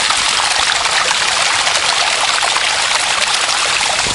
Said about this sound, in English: it's real water, real source of water, natural